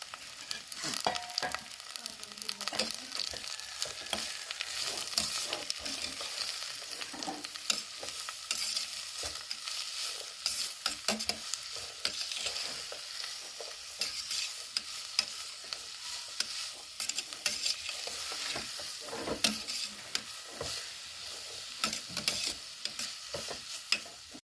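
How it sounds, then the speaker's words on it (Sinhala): Vegetables and sliced mackerel for spicy vegetable rice noodles are stirred in a frying pan, with steady sizzling and repeated scraping strokes running throughout, with no voices. "ඊට පස්සේ ඒ ටික ටිකක් ආපහු හොඳට කලවම් කරගන්න ඕනේ."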